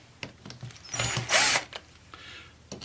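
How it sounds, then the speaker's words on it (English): A power drill whirs in one short burst of about half a second while servicing a Softpro water softener, preceded and followed by faint clicks and handling noises. "Take our drill."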